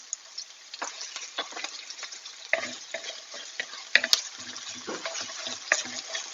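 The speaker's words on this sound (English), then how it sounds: "nice sizzle now" Garlic sizzles steadily in a hot frying pan, with a bright crackle and occasional stirring scrapes and clinks close by.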